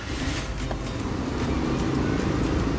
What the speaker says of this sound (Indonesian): Apabila mobil ini di start, keadaan hidup.